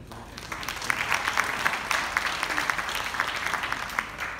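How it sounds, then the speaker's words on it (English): An audience at a morning business show in Goa gives a round of sustained applause. Crisp individual claps stand out within a steady mid-level patter that keeps going throughout. "Round of applause."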